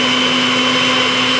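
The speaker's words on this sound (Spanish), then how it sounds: "Por aquí vamos a pasar a licuar inmediatamente." A kitchen blender whirs loudly as it purees tomato and bell pepper juice, a steady high-pitched motor drone that runs close and constant before cutting off abruptly at the end.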